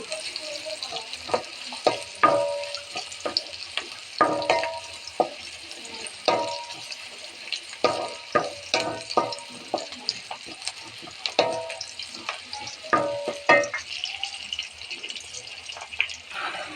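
Paste frying in hot oil in a wok for a dried fish and brinjal dish, a steady close sizzle broken by repeated scraping stirs and clinks of a spatula, with no voices.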